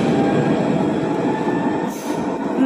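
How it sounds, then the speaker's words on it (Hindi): A metro train running underground, with a loud, steady rumble of wheels and carriage noise close by, a brief rise in high hiss near the end, and no voices. "मैं अक्सराए की मेट्रो में बैठ गई हूँ"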